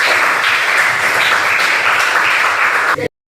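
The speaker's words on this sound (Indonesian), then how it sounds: "Tepuk tangan dulu" A vocational high school class claps together in a loud, dense burst of applause that fills the room for about three seconds, then stops abruptly into silence.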